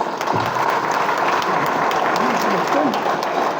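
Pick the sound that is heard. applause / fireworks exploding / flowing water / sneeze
applause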